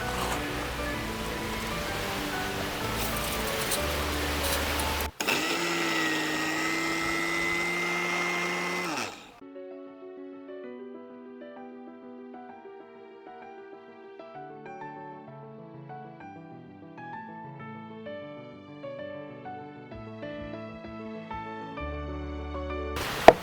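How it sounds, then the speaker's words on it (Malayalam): A mixer grinder whirs loudly for about nine seconds as it grinds drained soaked rice into a coarse powder for Kerala avalose podi, then music takes over. "ഇനി നമുക്കിതിനെ ഒന്ന് പൊടിച്ചെടുക്കാം"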